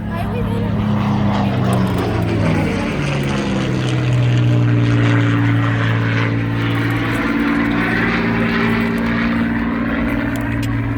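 A Supermarine Spitfire Mk IX in a full flight display at the 2022 Central Coast Airshow passes overhead, its loud propeller engine droning steadily with a pitch that falls as it sweeps by, heavy and sustained throughout.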